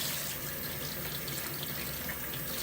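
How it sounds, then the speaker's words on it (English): Raw chicken rinsed under a running kitchen tap with plain water, a steady close splashing hiss that continues evenly without talk. "Wash it. Just with water, people."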